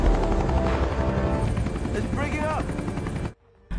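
Helicopter flying in a film scene during a search for two buses in a sandstorm, a loud steady rotor drone layered with dramatic score and effects, cutting off abruptly near the end.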